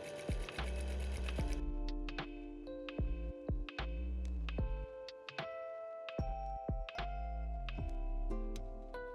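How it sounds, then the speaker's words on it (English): A sewing machine stitching fabric for a detachable hood, running in short bursts of rapid, steady mechanical whirring with pauses and clicks between runs, close and clear. "Sew with a machine."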